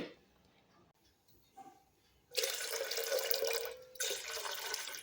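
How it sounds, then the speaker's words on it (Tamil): Water is poured into a pot in a kitchen while making karupatti ulundhu kanji. There are quiet clinks at first, then a loud, steady splashing stream close by that pauses briefly and resumes. "இப்போ இதில் ஒரு லிட்டர் அளவுக்கு தண்ணி சேர்த்துக்கலாம்"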